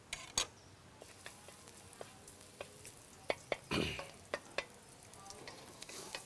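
Garlic hits hot oil in a pan with a soft, faint sizzle, broken by a few sharp clacks and scrapes of a utensil stirring.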